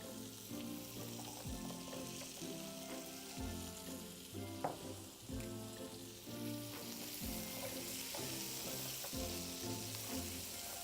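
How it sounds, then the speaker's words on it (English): Mushrooms sauteing in a pan for a keto dish give a steady, close sizzle and crackle throughout, with occasional scrapes and clinks of stirring and no voices. "So we're going to saute that a little more."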